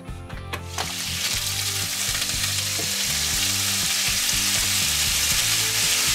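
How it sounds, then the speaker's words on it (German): Food fries in oil in a pan with a loud, steady sizzle that starts abruptly after a second and continues without pause, close up and without talk. "ordentlich anbraten"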